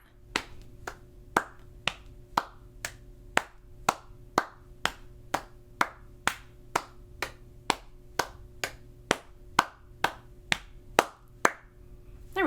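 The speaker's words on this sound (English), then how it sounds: "It's just pat, clap, clap, pat, clap, clap." A steady practice rhythm of hand pats and claps alternating in a pat, clap, clap pattern, each hit sharp and close, repeating evenly about twice per second with no talking.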